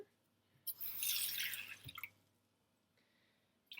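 A cup of water is poured into milk, giving a short splashy rush of liquid lasting about a second, followed by a few faint drips and clinks in an otherwise quiet kitchen.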